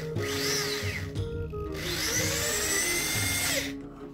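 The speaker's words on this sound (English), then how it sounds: "drew 3 dots where I wanted to drill the holes for the legs" An electric drill bores holes into a thin wooden disc, two long whining passes with rising and falling pitch separated by a short pause, close and loud with no talking.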